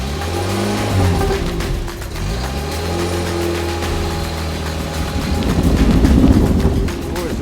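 A LAIKA all-terrain vehicle engine, made in Kurgan, pulls away in second gear, its low drone rising in pitch as it moves off, with wind buffeting the microphone and the engine swelling louder near the end.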